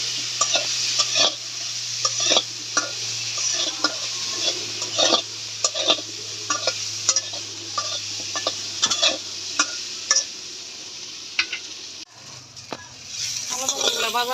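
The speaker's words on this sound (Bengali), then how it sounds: "এই মাছ ভাজা তেলে আলু বাগুন ভেজে নিব।" Potato and eggplant pieces fry in oil left over from frying fish, a steady sizzle close up broken by frequent scraping stirs of a utensil against the pan, over a low constant hum.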